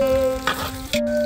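Garlic hitting a hot wok gives a short burst of sizzling, with two brief crackling flares over a steady hiss and a low background hum, heard up close with no voices.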